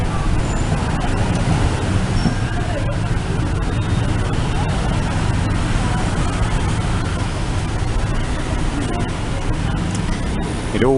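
Busy city traffic in Hanoi with cars, buses and electric scooters streaming past, a loud, continuous roar of engines and tyres with faint crowd babble mixed in.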